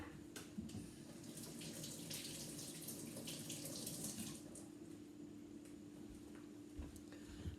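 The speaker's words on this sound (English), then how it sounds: "I am going to just wash my onion quickly." Onion rinsed under a running kitchen tap, a steady close hiss of flowing water with irregular splashes as the bulb is turned in the stream, quiet and without talk.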